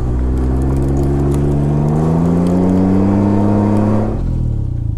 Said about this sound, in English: You like the burnouts?